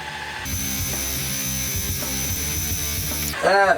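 Motorized drill boring holes through aluminum for a knife bevel grinding jig, a steady loud whine with a high tone running throughout, ending in a brief rougher burst as the bit breaks through.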